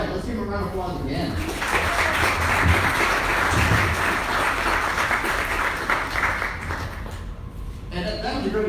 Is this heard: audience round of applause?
yes